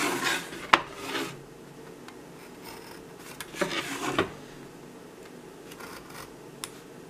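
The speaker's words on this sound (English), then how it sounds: "it's just a matter of slicing through your tape along the lines of the shape that you're creating" A sharp tool slices through masking tape on a ceramic piece in close, quiet scraping and rasping strokes, with a few short clicks and taps between the soft cuts.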